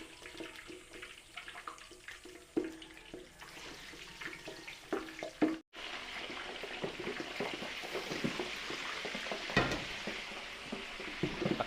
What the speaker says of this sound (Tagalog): Prito natin yung ating pamputsero.